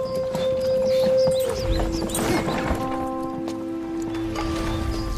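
Hooves of a horse-drawn carriage clop and knock in an animated series, set against tonal music and a mix of scattered knocks and rattles, moderately loud and close.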